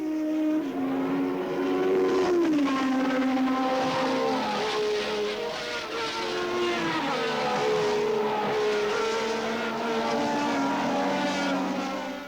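A 1970s Formula One race car driven by Reutemann spins out, its engine a loud, sustained howl whose pitch dips and swoops, with no talk.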